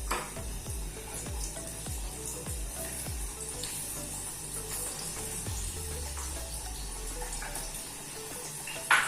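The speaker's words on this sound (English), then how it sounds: "When oil is hot, you have to put these potatoes in there." Steady sizzling of potatoes frying in hot oil, with a few soft knocks early on, continuous and moderately close.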